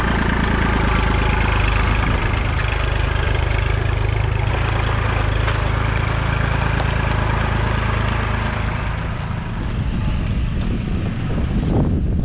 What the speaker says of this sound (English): the tractor's been warming up now